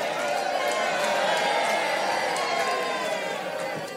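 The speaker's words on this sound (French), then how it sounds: "On applaudit." A group applauds and cheers during a French-language Bible quiz broadcast, a dense, sustained wall of clapping and crowd noise at even loudness that fades a little at the close.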